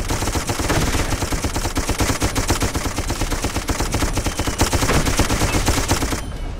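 Sustained machine gun fire in the historical shooter Darkest of Days, a dense, loud, continuous rattle of rapid shots that runs almost the entire stretch and cuts off abruptly at the end.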